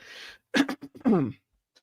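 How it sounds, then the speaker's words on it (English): A short burst of throat clearing, a couple of rough vocal rasps close to the listener, preceded by a breathy hiss and followed by silence. "pardon my clearing my throat"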